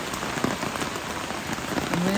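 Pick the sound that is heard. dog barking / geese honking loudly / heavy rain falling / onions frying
heavy rain falling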